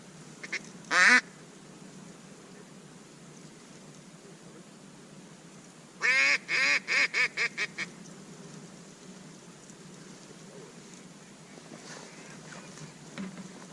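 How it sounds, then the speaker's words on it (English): Ducks flying overhead during a duck hunt quack twice in the distance: one short call, then a rapid burst of several quacks, over a faint steady background hum. "there are a lot of birds"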